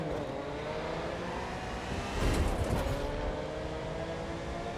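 Car engine in the racing video game The Crew 2, a steady mid-pitched drone that swells into a louder surge midway before settling back, heard alone without talk.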